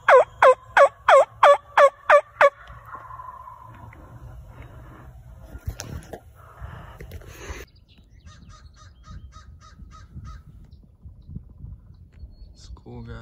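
A wild turkey gobbles in a quick series of about seven loud, rhythmic bursts during a Pennsylvania spring turkey hunt, then the scene falls quiet with faint distant calls and rustling.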